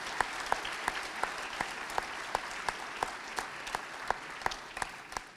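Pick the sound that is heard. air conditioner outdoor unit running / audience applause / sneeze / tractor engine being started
audience applause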